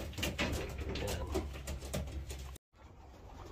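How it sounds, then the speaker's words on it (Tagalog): New Zealand grizzle racing pigeons coo softly nearby amid rustling and low rumbling, then the sound briefly cuts out before resuming quietly. "Ito na yung kalapati na nakuha natin kay Gio"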